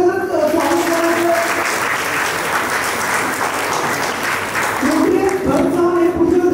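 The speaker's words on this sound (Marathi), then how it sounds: "सर्वांनी टाळ्या गजरात स्वागत करायचं." A room full of people applauds to welcome a Rotarian at a Rotary club event, sustained close clapping throughout, with a voice speaking over it at the start and near the end.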